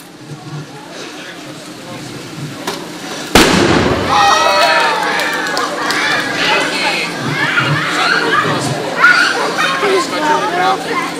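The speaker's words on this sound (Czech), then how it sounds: "Takže to byl takový náš krásný výbuch na závěr." A loud closing explosion at an outdoor beer festival in Těškovice bursts suddenly with a sharp boom, followed by a lingering rumble and the lively noise of a crowd and children cheering nearby.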